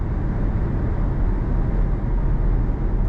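A 2026 Toyota Camry XSE accelerates on throttle, a steady broadband engine and road roar filling the cabin without letup, with no talk.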